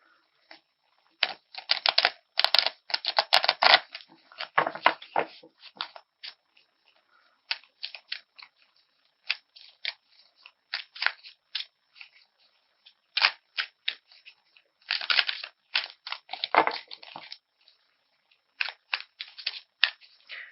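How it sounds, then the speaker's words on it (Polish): Tarot cards being shuffled during a monthly horoscope reading give off crisp, papery riffling bursts in irregular clusters, close and fairly loud, with short quiet gaps between them and no voices. "Rozpocznę od tasowania."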